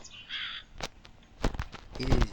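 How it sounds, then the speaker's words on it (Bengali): In the Bangladeshi game Meena 2, a crow gives several harsh, close caws in quick bursts amid light in-game noise. "ভাই কাকের হাত থেকে বাঁচতে হবে ভাই,"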